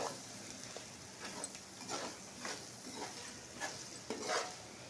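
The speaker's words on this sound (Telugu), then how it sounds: "ఉడికించుకున్న మటన్ని వేసుకొని ఫ్రై చేసుకోవాలి ఫ్రెండ్స్ ఒక ఫైవ్ మినిట్స్ మటన్ని ఫ్రై చేసుకోవాలి" Boiled mutton frying in a pan with ginger-garlic paste and garam masala, a faint continuous sizzle broken by soft rhythmic stirring scrapes of a spoon against the pan, without talk.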